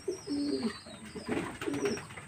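Pigeons coo in repeated low, throaty bursts, close and fairly loud, with pauses between calls and faint chirps and rustling behind, in cloudy weather while the birds feed.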